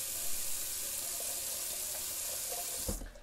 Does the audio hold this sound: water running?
yes